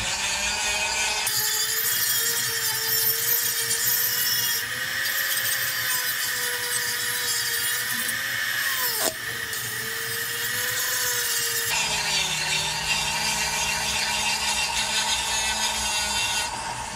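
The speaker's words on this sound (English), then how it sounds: "all I'm going to do is take off the grinding marks, and then I'll figure out another bit to use" A rotary carving bit whines steadily against wood as it smooths away grinding marks on a carved fish's habitat base, with a sustained high buzzing tone and a brief pitch dip midway before the grinding resumes.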